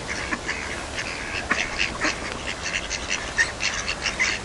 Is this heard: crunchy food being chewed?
no